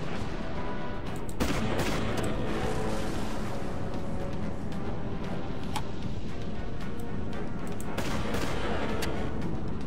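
Spaceship primary weapons firing in the space combat game Dreadnought: a dense, continuous barrage of rapid gunfire-like bursts and booms, loud and sustained throughout with no speech.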